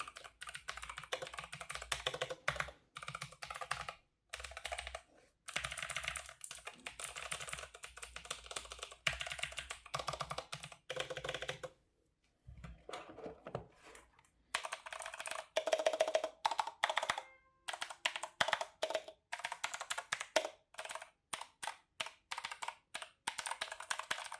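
Fast, crisp clicking of a Razer BlackWidow Elite clicky mechanical gaming keyboard being typed on in irregular bursts with short pauses, close and fairly quiet.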